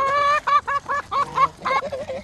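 A goose honks repeatedly just after being attacked, a run of loud, nasal, close calls in quick bursts with short gaps between them.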